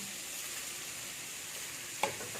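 Watermelon rinds hit hot oil in a pan with a steady soft sizzle, punctuated by one brief sharp clink near the end.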